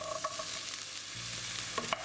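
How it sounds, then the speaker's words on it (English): Chickpeas go into a pan of high-protein vegan salad ingredients and get stirred, giving soft scraping and stirring noises with a faint sizzle, close and steady over a couple of seconds. "So now I'm going to add the chickpeas."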